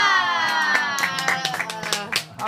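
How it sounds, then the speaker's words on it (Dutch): A small family group claps after birthday candles are blown out, a brisk burst of hand claps close by over a sustained sung or hummed tone, with a voice chiming in among the claps. "Applaus. Applaus. Klappen, klappen."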